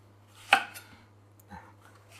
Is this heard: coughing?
no